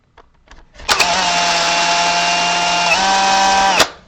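A power drill bores steadily into wood while assembling a model platform's front legs, a loud sustained whine holding for about three seconds after a brief start, its pitch dipping slightly partway through before it abruptly stops.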